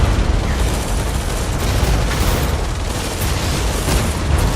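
Explosions tearing through a refinery compound in the military strategy video game EndWar, a dense, continuous rumble of booms and blasts with heavy low-end weight, loud and sustained without pause.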